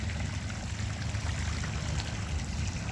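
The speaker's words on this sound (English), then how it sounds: "Here's their pool. Got little fountains in it." Small fountains splashing into an RV park swimming pool, a steady close wash of falling, trickling water without pause.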